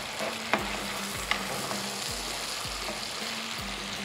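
Chopped peppers and tomatoes sizzle steadily in a hot pan while a utensil stirs them, scraping in a slow repeating rhythm with a couple of sharper knocks, close up and with no talking.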